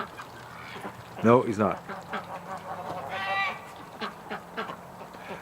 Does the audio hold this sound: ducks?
yes